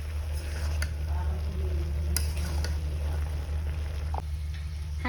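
Small fish fry in a wok that is turned and stirred, giving a quiet, low sizzle with sparse clicks and scrapes over a steady low hum.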